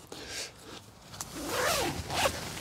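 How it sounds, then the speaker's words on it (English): The inner zip of a Naturehike Star River 2 tent is undone in slow, drawn-out pulls, a close rasping zipper sound that rises and falls over a couple of seconds. "So let's undo the inner zip like before."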